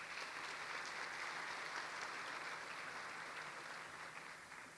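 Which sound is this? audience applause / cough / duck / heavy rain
audience applause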